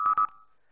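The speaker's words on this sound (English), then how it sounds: "Sorry about the beeping." Two short electronic beeps in quick succession, clear and fairly loud, with the second ringing out and fading over half a second in an otherwise quiet background.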